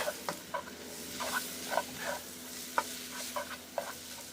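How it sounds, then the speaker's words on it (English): Chicken noodles sizzle in a hot pan over an open fire pit while a utensil scrapes and tosses them in quick, irregular strokes, close and steady. "when you're frying your noodles, it roasts them a little bit."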